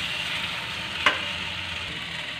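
Tomato masala for desi tomato pasta frying in a pan, an even close sizzle with a single sharp stir click near the middle, no talk.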